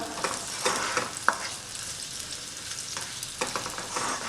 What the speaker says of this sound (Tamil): அதுக்கப்புறம் பச்சை மிளகாய் சேர்த்துக்கலாம். இது எல்லாத்தையும் சேர்த்து ஒரு வாட்டி நல்லா வதக்கிக்கலாம்.